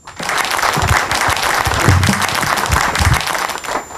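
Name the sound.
applause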